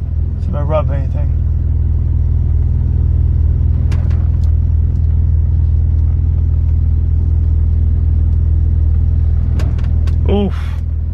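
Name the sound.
car pulling out of driveway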